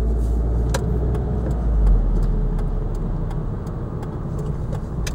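An automatic car drives through Hollywood near the Hollywood Hills, its steady engine and road rumble loud and continuous throughout, with a slight swell in the middle and a few faint ticks over the drone.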